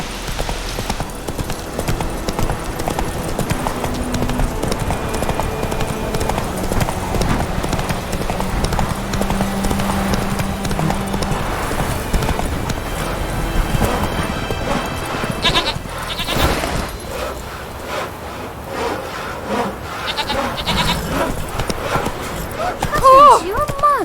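Roach, the horse in The Witcher 3: Wild Hunt, gallops with a steady clip-clop of hooves under continuous in-game ambience and occasional talk, with a brief voice shout near the end.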